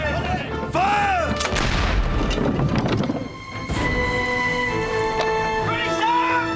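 Heavy booms from a sailing warship's cannon broadside in a naval engagement against a French ship, loud repeated blasts with rumbling echoes under shouted orders.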